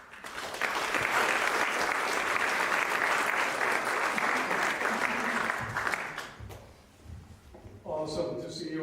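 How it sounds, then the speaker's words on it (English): A crowd applauds loudly and continuously for about six seconds, then the clapping fades and a voice starts talking. "Please give a round of applause for Stefan, who's going to lead us through w"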